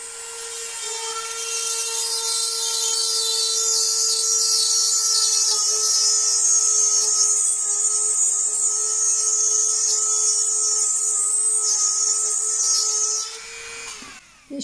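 A thin drill bit bores a hole through a thick, small, wetted stone, a steady high whine with a constant tone running for about thirteen seconds before stopping abruptly near the end.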